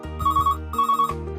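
A telephone rings for an incoming call on a call-in television show, two short bursts of an electronic warbling ring close and clear, with no talking.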